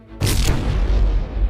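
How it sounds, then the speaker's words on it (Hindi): A bomb blast in a shopping mall in an animated film, a sudden loud boom with a sharp onset followed by a sustained heavy rumble that fills the rest of the moment. "अरे मॉल में बॉम्ब है। अरे बॉम्ब ब्लास्ट हो गया"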